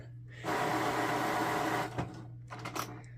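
An HP Deskjet 3510 inkjet printer tries to pick up paper: a steady mechanical whir runs for about a second and a half and ends in a thunk, followed by a few light clicks and rattles.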